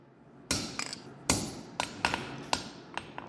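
Hammer driving a punch into hot steel while forging a diagonal peen blacksmithing hammer, about six sharp ringing metallic strikes at uneven intervals, close and loud, with quieter taps between.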